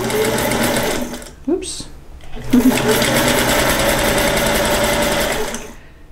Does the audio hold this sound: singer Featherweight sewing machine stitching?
yes